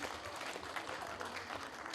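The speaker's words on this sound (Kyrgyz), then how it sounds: "Шаңду кол чаап отурсаңыздар." Audience applause at a regional contest in Naryn province, a steady moderate patter of many hands clapping for about two seconds with no break.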